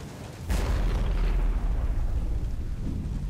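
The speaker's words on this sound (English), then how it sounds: "Always handy to have some auto cannon" A single heavy boom of autocannon fire in the game Singularity hits suddenly, followed by a loud, sustained low rumble that fades slowly.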